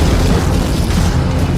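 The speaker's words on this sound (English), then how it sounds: "powerful explosion of sand and water." A sudden, powerful burst of sand and water bursts through a tunnel under construction, a loud, sustained roaring boom with dense turbulent rushing that stays intense throughout, no voices present.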